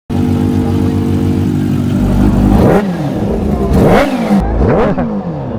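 Kawasaki H2 Carbon motorcycle warming up close by: a steady idle rises into several sharp throttle blips that swoop up and fall back, loud and without talk.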